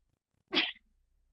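A single sharp sneeze in a quiet meeting room during a health board meeting, loud and brief, followed by near silence.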